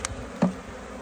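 Honeybees from rescued abandoned hives buzzing close by, a short burst of droning with a brief louder swell partway through.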